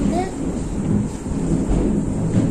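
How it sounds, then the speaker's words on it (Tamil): Heavy rain falls during a thunderstorm in Chennai, with a steady loud wash of rain and low rumbling thunder underneath, continuous across the whole stretch. "சென்னையில் செம மழை."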